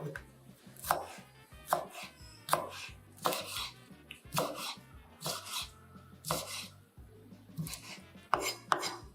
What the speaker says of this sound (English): Cut green onions lengthwise.